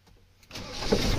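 A vehicle engine, turned over after its preheating cycle, catches half a second in and swells from near silence into a rising, close broadband roar as it fires up.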